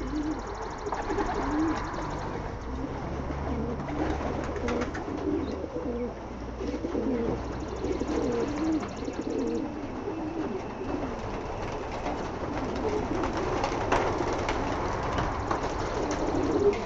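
Pigeons let out of their loft in the morning, a soft, continuous chorus of cooing from several birds nearby, with low rumbling background noise.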